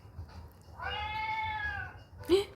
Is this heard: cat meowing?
yes